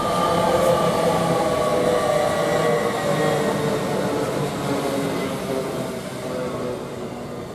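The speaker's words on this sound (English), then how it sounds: "Now we've got a LNER service from Lincoln Central to London King's Cross, which is the 1407 service." An LNER class 800 train, unit 800 201, on the 1407 Lincoln Central to London King's Cross service at Grantham station: a loud, steady rumble of wheels and motors with a tonal whine, easing slightly as it passes.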